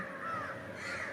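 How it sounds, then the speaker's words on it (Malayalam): Crows caw harshly and continuously around water where they bathe, several birds calling over one another at moderate distance. "ഒരുപാട് കാക്കകൾ ഇവിടെ വന്ന് കുളിക്കുന്നുണ്ട്"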